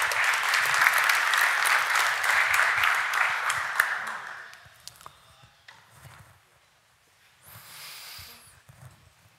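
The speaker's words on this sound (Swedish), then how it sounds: "en applåd för Pernilla som får representera .se" Audience applause at a 24 Hour Business Camp pitch event in 2011, loud and sustained for about four seconds before fading into scattered claps and quiet room noise, with a brief rustle near the end.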